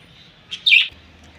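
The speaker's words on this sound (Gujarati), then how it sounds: "આ આપણા કોકટેલ ચકલા છે, 2 જ છે." Cockatiels in a home aviary give a brief burst of high chirps and squawks near the middle, otherwise quiet with a low hum underneath.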